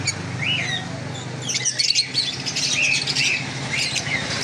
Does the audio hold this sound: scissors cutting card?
no